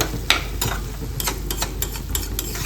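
Chili pickle is stirred in a pan with a spoon. Rhythmic scrapes and soft clinks repeat about every quarter second over a faint, steady sizzle.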